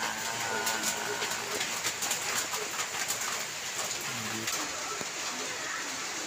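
Steady rain hisses throughout, with pigeons cooing softly nearby and a few faint bird calls over the downpour.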